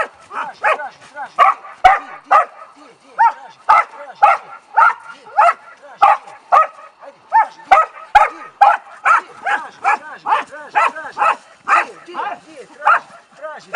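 Rescue dog in snow search training, barking and whimpering close by in a quick, steady string of short, loud yelps that run the whole time with hardly a pause.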